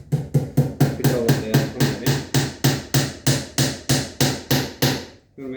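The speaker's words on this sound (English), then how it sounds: "Get your hammer, get your dowels," A hammer drives wooden dowels into a windowsill with about sixteen sharp, evenly spaced blows. The strikes are loud and close, each one ringing briefly before the next, and they stop abruptly near the end.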